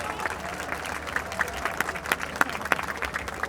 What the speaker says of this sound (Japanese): 皆さん今一度木村さんに盛大な拍手をお願いします。